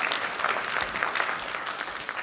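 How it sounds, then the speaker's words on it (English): A modest audience at a Republican club monthly program in Laguna Woods Village claps for an organiser, fairly quiet and scattered applause heard at some distance. "please give her an applause"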